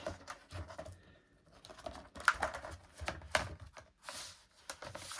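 A sealed paper section in a hardback book is gently peeled back, giving soft tearing and crinkling rustles in uneven bursts with a few sharper rips, close and quiet.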